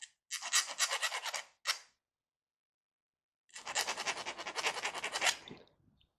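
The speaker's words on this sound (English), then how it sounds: "the screws are non-magnetic, so I've got to hit them with a file" Brass screws are rasped with a hand file in two bursts of quick scraping strokes, close and crisp, separated by a pause of silence.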